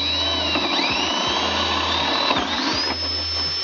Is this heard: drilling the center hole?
yes